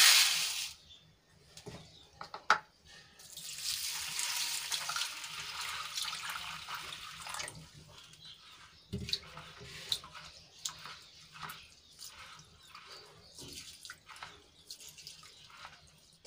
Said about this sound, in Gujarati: તો હવે એને આ 2 પાણીથી આપણે ધોઈને સાફ કરી લઈશું.